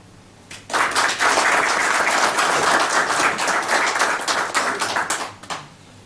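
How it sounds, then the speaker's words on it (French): A seated audience at a tribute evening claps warmly for the hosts, bursting in suddenly and holding a dense, sustained applause for about five seconds before tapering off. "je vous demande de les applaudir chaleureusement tous les deux"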